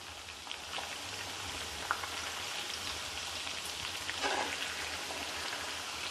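Chicken pieces frying in oil in an indalium (aluminium) pan for a street-stall style chicken fry, giving a steady, even hiss and crackle that runs throughout with no talking.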